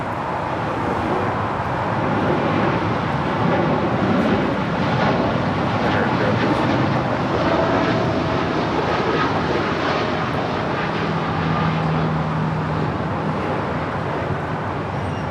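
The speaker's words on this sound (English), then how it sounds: "The 787 Dreamliner is taking off to Tokyo Narita" Japan Airlines Boeing 787 Dreamliner departing Los Angeles for Tokyo Narita, a steady broad jet engine roar held throughout at moderate distance, with faint road traffic beneath.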